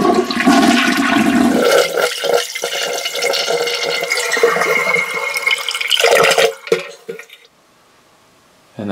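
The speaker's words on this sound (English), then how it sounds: "Flush the toilet." A household toilet flushes close by, a loud rushing gush of water that swirls for several seconds, then drains away abruptly to near silence.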